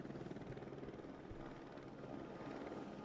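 A helicopter's rotor beats in a steady, fast chop inside a played video, faint and continuous with no talking over it.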